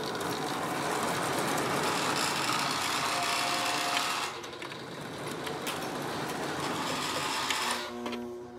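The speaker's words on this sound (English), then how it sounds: "let's go ahead and operate a Lionel post-war engine" Lionel post-war model train engine running on track powered by a Lionel CW-80 transformer, a steady close mechanical whir and rattle that drops slightly midway and then continues, with no talking.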